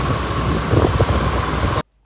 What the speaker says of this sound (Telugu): ఒక దిక్కు వర్షం పడుతుంది